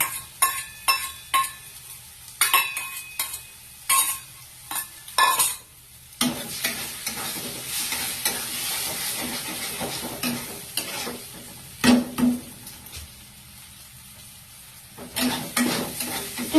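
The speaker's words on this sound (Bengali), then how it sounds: "ভালো করে নেড়ে চেড়ে কুচি কুচি করে ভাজতে হবে" Eggs are stir-fried and broken up in oil in a pan, with a steady sizzle under repeated scraping and clinking of a utensil against the pan, close and alone without speech.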